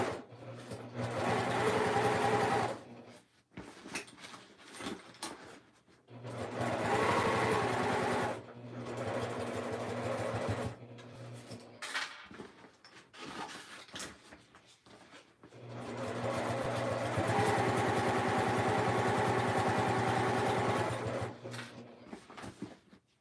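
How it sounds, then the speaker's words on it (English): A sewing machine stitches around a fabric car trash can in three bursts of steady, close whirring with short pauses for repositioning between them. "And we'll just sew around that."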